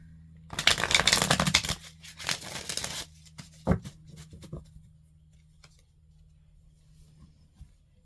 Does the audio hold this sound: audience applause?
no